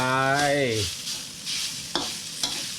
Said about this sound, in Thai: ผัดไปเรื่อยๆนะครับ มัน ใกล้สุกละ เนื้อปลาใกล้สุกนะครับนะ